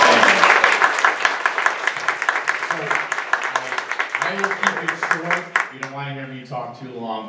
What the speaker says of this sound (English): So just give them one more round of applause.